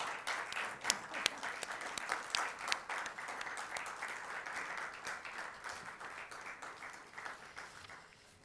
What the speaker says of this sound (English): Can we all have a round of applause, please?